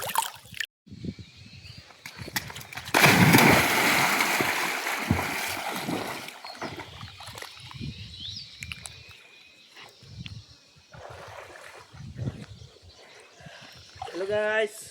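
Someone jumps into canal water and swims, with a loud splashy surge of water lasting several seconds, followed by ongoing lapping and wading sounds as voices talk nearby outdoors.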